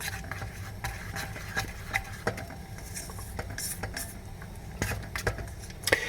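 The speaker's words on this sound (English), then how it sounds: "remove it from the heat and continue stirring" A mineral oil abrasive paste is stirred in a pan off the heat: soft, steady scraping and swishing with light taps of the utensil against the container, quiet and close.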